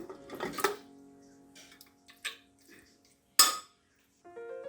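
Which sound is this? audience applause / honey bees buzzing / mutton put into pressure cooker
mutton put into pressure cooker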